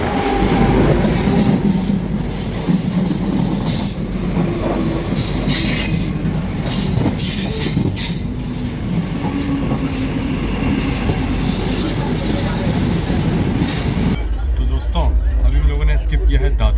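The 22221 Rajdhani Express rolls at high speed, a loud continuous rumble of wheels on rail with squeals and rattling carriage noise throughout, briefly dropping to a muffled tone near the end.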